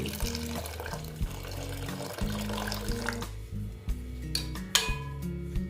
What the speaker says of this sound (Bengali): গরম জল গরম জল দিচ্ছি